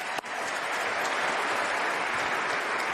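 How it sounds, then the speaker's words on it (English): Chefs and guests at an award event break into sustained applause, a thick wash of clapping that starts right away and stays loud and steady. "You guys should give yourselves a round of applause."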